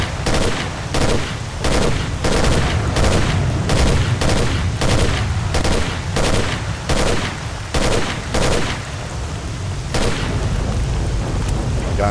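Rapid bursts of gunfire in the Stalker: Call of Pripyat video game, loud, close, repeated shots in a steady volley with a short pause near the end, no voices.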